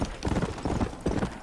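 Hooves of a horse in Red Dead Redemption: Undead Nightmare clip-clop close and loud in a quick, steady galloping rhythm.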